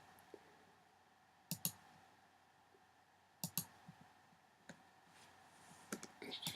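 A computer mouse clicks while image masks are edited, with a few sharp, sparse clicks, some in quick pairs, spaced apart over a quiet room background.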